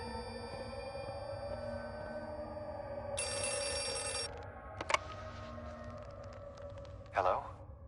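A telephone rings in the horror video game Outlast II, one faint electronic trill over a low ambient hum, followed by scattered clicks and a brief louder rustle.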